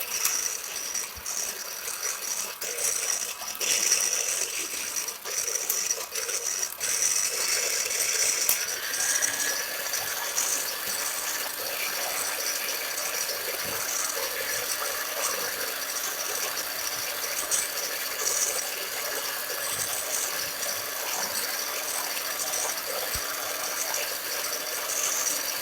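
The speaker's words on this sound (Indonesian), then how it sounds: "Kita mixer coklatosnya selama 2 menit saja." An electric mixer whips Chocolatos chocolate drink for a dalgona-style drink, giving a steady, continuous whirring rattle that runs evenly from start to finish with no voices.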